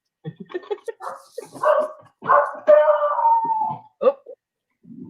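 A small dog yips and barks in short, high bursts, then lets out a longer whining howl, close and loud, with a few low sounds at the end and no clear talking.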